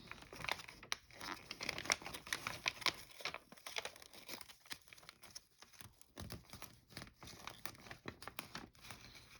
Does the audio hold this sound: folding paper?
yes